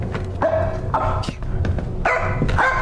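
A dog barks in the horror video game Supernatural, several sharp barks and yips in bursts over a busy game soundscape, fairly loud and close.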